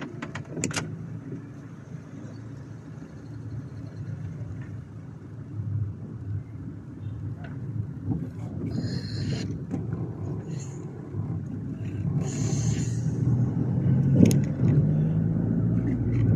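A steady low rumble of a car driving through the city of Cosenza, heard from inside the cabin, with faint rattles and brief jingles over the continuous engine and road noise.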